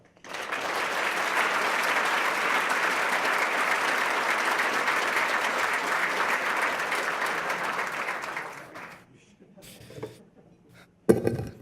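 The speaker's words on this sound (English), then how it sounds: "Give him another big round of applause." Audience applause at a Utah clean-air summit, a steady loud wash of many hands clapping for about eight seconds before dying away into a quiet room with a few scattered knocks.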